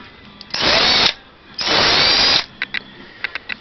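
A repaired Sparki cordless drill-driver runs in two bursts of about half a second and a second each, with reverse switched between them. Faint mechanical clicks from the switch and chuck follow.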